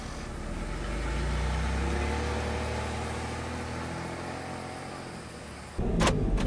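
A car's engine runs steadily on Route 50 while driving, a low continuous rumble that swells slightly, then a brief louder clatter near the end.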